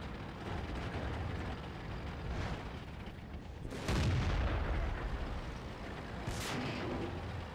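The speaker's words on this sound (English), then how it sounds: "And then I get hit by what I think is that French TD up there." In World of Tanks, a player's tank takes a shell hit from a French tank destroyer, a heavy boom and impact bursting through the rumble of the engine, followed by another sharp blast a few seconds later.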